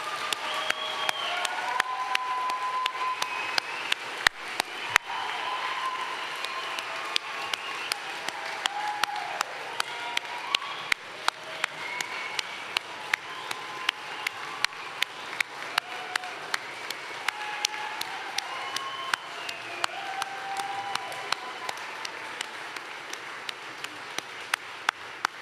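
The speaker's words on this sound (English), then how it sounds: "Please give a round of applause for all of our graduates." Long, steady applause from an audience at a Navy training unit graduation ceremony, dense clapping with sharp individual claps standing out and faint crowd murmurs beneath.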